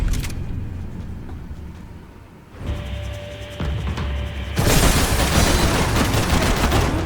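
Gunfire from the Max Payne 3 video game rattles in bursts, quieter at first and then swelling into a dense, loud fusillade of rapid shots in the final seconds, with no speech over it.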